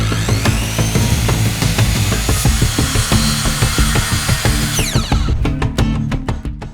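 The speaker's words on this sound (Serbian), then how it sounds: "Ovu ploču ćemo prvo iseći na potrebni format." A power saw cuts through a 12 mm plywood sheet, a loud continuous rasping buzz with rhythmic rubbing strokes that winds down into a few sharp taps at the end.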